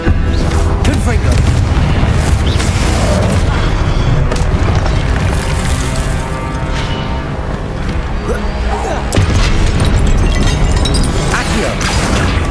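Confringo blasting spells and other magic effects in Hogwarts Legacy boom continuously and loudly, dense explosive crashes layered over game music and a spell-casting voice throughout.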